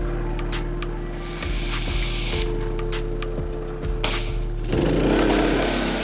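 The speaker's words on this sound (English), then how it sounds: "Turn on the pressure washer." A pressure washer runs during a car detail on a Porsche GT3 RS, its motor humming steadily and loudly at close range, with a few brief clicks and a rougher surge of spray noise near the end.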